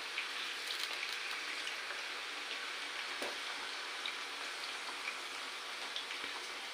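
Potato slices frying in oil, placed into cold oil over low heat: a steady, soft crackling sizzle with faint scattered pops throughout, alone without voices.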